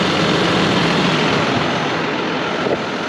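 A John Deere 6620 tractor works a field during silage baling, its engine a loud, steady droning roar heard close and unbroken throughout.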